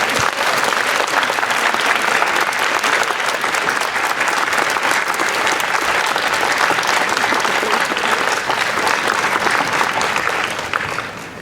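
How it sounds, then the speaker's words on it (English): Sustained applause from a large audience at a graduation ceremony, steady dense clapping filling the hall for about eleven seconds before starting to thin out at the end. "express your gratitude to those who have supported you with a round of applause"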